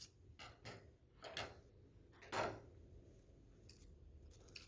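Scissors make a handful of straight cuts through origami paper, producing soft, separate snipping crunches spaced about half a second to a second apart, close and quiet with no talking.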